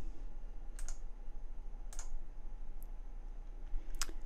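Computer mouse clicks on a desk, four sparse sharp clicks spread about a second apart, close and clear over a steady low electrical hum, with no talk.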